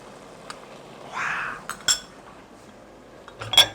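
A spoon stirs ogbono soup in oil in a pot, giving soft scraping swishes and a few light metallic clinks against the pot, quiet and close with gaps of near silence.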